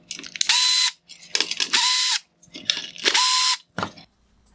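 A power screwdriver removing Phillips head screws from a 2018-2020 Lexus NX headlight bezel, three close whirring bursts of a high motor whine separated by brief clicks and handling sounds, with no talk.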